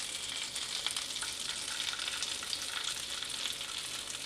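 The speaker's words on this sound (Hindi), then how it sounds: "बाकी कैप्सिकम गुडी को मध्य हम सेमिति फ्राई करि नबा" Capsicum fries in a pan for an egg-stuffed capsicum omelette, a dense, continuous bright sizzle holding steady at a quiet level with no pauses or other sounds.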